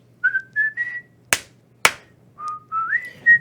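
People whistle short rising and level notes in a series of clear, close tones, broken by two sharp metallic knocks midway.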